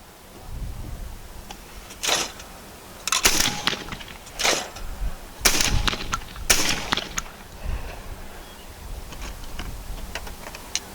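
A Retay Gordion semi-automatic 12 gauge shotgun with a 3-inch chamber fires Winchester shells at an outdoor range, giving about five sharp, moderately loud blasts at irregular intervals between quieter stretches.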